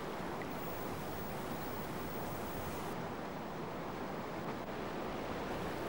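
Waves splash steadily against the plunging bow of a big canoe on a free-flowing river, a continuous close wash of water without talk.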